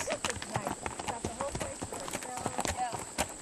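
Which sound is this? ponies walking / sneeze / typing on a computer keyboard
ponies walking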